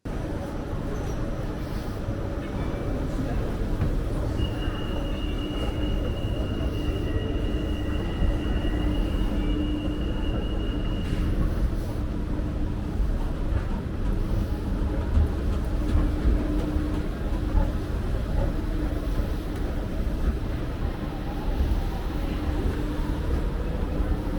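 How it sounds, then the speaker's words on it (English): A metro train rumbles through a metro station, a long, steady roar of wheels and motors with a brief high squeal partway through, loud and close. "as you'll have seen from the B-roll before this, that I was in a metro station"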